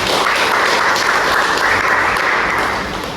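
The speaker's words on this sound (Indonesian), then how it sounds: "tepuk tangan dulu Mbak Imut." A classroom of fifth-grade children claps together, steady and sustained applause for a few seconds before it starts to fade.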